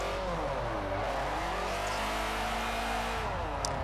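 A car drifting with counter-steering in Forza Motorsport 4: a sustained, loud engine whine rises and falls with revs for the whole stretch, steady and close, with no talk.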